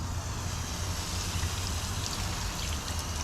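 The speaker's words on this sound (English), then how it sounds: "it's rinsing off all these tire dressings" Water rinsing off car tires coated with tire dressing, a steady soft spray and patter, fairly faint and continuous with no talk.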